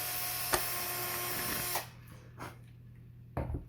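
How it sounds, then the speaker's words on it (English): A power drill bores a hole through a brand-new hat with a plastic inner lining, making a steady close whir for almost two seconds before it cuts off, followed by a few faint handling clicks. "I'm actually going to take my drill and drill a hole through this hat"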